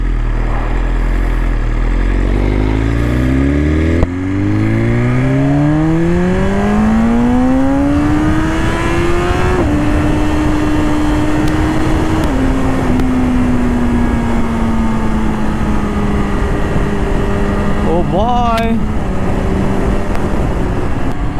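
A BMW S1000RR Pro M Sport with a full Akrapovic exhaust climbs steadily through its revs. After an upshift it holds a smooth, loud engine drone, then gives a quick rev blip near the end, with no voices.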